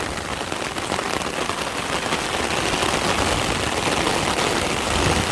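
Heavy rain pours down outdoors during a fishing outing, a loud, steady, dense hiss and patter of drops drumming on surfaces with no pause and no voices.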